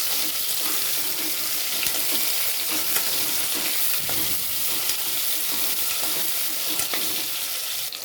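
Potatoes frying in hot oil with cumin and mustard seeds crackle in a continuous close sizzle, broken by scraping and clinking as a utensil stirs them in the pan.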